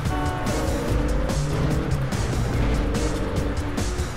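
Loud, continuous engine roar from a car in the video game Wheelman, with tire squeal and revving layered through the drive and no speech.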